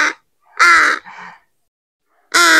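A black crow being hand-fed gives loud, harsh caws close by, three strong calls with a softer one between them and short silent gaps.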